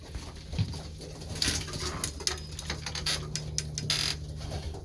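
Racing pigeons settling in a dim loft after a 40-mile training toss, soft low cooing running underneath with scattered light taps and shuffles from birds on perches and the floor, fairly close and quiet.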